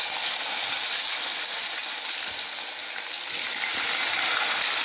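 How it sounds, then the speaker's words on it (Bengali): Potatoes frying in hot mustard oil already used for fish, with panch phoron added, giving a loud, steady sizzle and hiss without any voices. "আলু টালু এগুলো আমি ভেজে নেব।"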